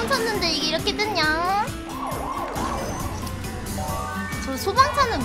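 A fire truck siren in a video game wails in rising and falling sweeps, loud and repeating over several seconds while people talk excitedly over it.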